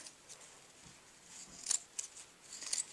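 Scissors snip through the fabric of a homemade cloth pad, making a few quick, quiet crisp cuts close by with soft rustling in between.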